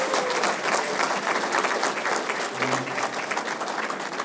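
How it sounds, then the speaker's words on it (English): A crowd at the Valley Patriot Bash in Lawrence, Massachusetts gives Octavian Spanner a round of applause, a full, steady roar of clapping with faint crowd murmur underneath. "can we give a round of applause for Octavian Spanner"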